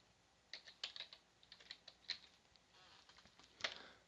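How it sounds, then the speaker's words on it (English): Quick bursts of keystrokes on a computer keyboard as a command is entered in Stata, faint and close, with irregular clicks and short pauses between them. "So type in the following command"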